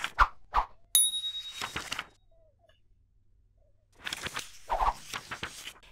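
A short bell-like notification chime rings out clearly at about one second, surrounded by brief clicks and pops of on-screen effects.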